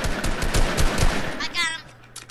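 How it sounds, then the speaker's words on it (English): Rapid automatic gunfire bursts loudly in a Fortnite match, a dense rattling volley that cuts off abruptly, with a player's voice heard around it. "Who's shooting at us?"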